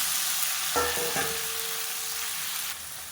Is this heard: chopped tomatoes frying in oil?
yes